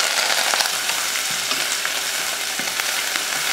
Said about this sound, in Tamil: வெங்காயத்தை ரொம்ப பொன்னிறமாக வதக்க தேவையில்லை